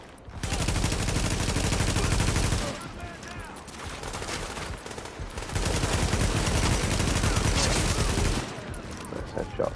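Gunfire in The Division video game, a dense loud fusillade of rapid shots in sustained bursts, with a brief lull between volleys before firing resumes.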